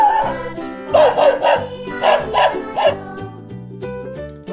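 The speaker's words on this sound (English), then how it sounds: "Brown dog." A cartoonish dog barks in a quick series of yips over a bouncy musical backing, like a sound effect in a children's song.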